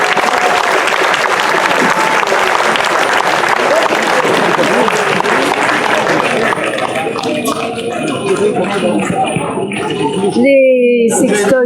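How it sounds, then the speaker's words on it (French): An audience at a live comedy show gives loud, sustained applause that thins into scattered claps near the end, and a brief voice cuts in at the close. "Alors on va t'applaudir encore une fois très fort."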